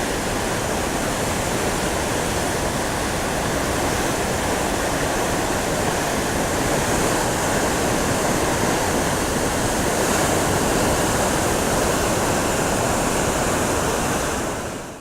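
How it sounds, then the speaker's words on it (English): Powerful rushing water roars steadily and loudly throughout, a dense unbroken surge like water pouring through a dam with no voices. "You can see the water here just surging"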